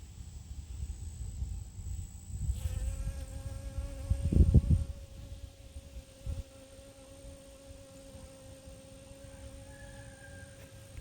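A bee working zucchini flowers in an early morning garden, its faint buzz sitting under quiet outdoor ambience, with a louder rustle or movement close by midway through.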